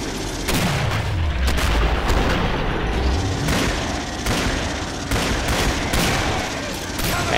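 Rapid bursts of gunfire from the Killing Floor video game during a zombie-wave shootout, with repeated loud shots and booming impacts running almost the whole stretch, with faint voices mixed in.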